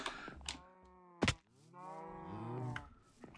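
Cow mooing in the video game Minecraft: a short low moo near the start, followed by a longer drawn-out bellow lasting about two seconds, fairly close and clear with no talk over it.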